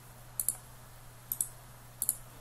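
Three sets of quick double clicks from a computer mouse, crisp and close against a quiet background hum, evenly spaced about a second apart.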